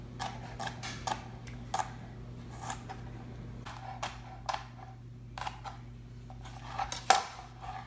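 A knife cuts through the tough skin of a rutabaga, a series of quiet, sharp clicks and scrapes on a cutting board over a low steady hum, ending with a louder snap.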